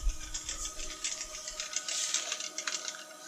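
An HP LaserJet 1100 laser printer runs quietly, giving soft rapid mechanical clicks and whirring as a page feeds through.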